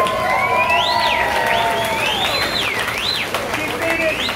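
Audience at a restaurant steak-eating challenge cheering and clapping, a lively mix of applause with rising and falling whoops and shouts, steady and fairly loud.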